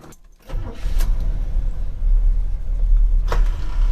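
A 1972 Buick GS Stage 1 engine cranks briefly and starts, settling into a loud, close, deep rumbling idle that holds steady with slight surges.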